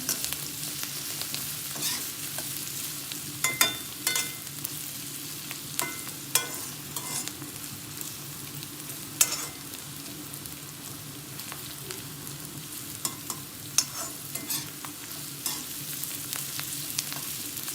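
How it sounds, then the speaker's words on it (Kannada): Onions fry in a pan for cashew chicken fry, a constant dense sizzle broken by intermittent clicks and scrapes of stirring, with no talking. "ಇದು ಚೆನ್ನಾಗಿ ಈರುಳ್ಳಿ ಎಲ್ಲ ಚೆನ್ನಾಗಿ ಫ್ರೈ ಆದರೆ ಟೇಸ್ಟಾಗಿರುತ್ತೆ"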